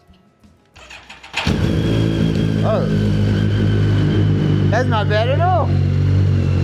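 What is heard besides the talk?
BMW K1300 GT motorcycle engine startup and idle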